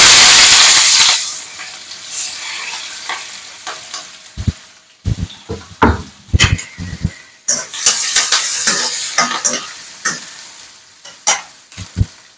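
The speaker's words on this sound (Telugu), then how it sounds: "ఉల్లిపాయలు అయితే మంచిగా వేగిపోయినాయి కదా మనకి" Onions and green chillies fry in a pan for egg curry, a loud steady sizzle broken by bursts of stirring and spoon scrapes against the metal, with no talking.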